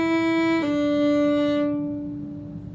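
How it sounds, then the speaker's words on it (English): Two bowed violin notes sound in succession on an up bow, a sustained tone then a slightly lower one that rings steadily and fades, close and alone. "first finger E to open D on an up bow"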